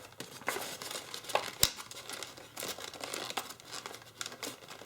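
Origami paper for a tessellated turtle model being folded, giving a steady run of close, dry crinkling and crackling with a few sharper paper snaps, and no speech.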